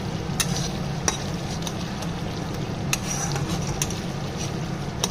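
Spice paste sizzles steadily in hot oil in a pan while making ghugni with boiled peas, chickpeas and potato, with a few faint spoon scrapes and taps ticking through the close, continuous frying hiss.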